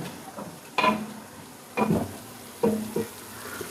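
Finely chopped onions frying in hot oil for a beef nalli nihari, heard as soft bursts of sizzling and stirring in three short waves over a quiet background, with no voices.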